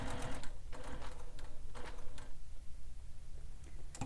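A sewing machine stitches a leather-style wallet in several short, loud mechanical bursts with brief pauses between runs, close up and with no talking.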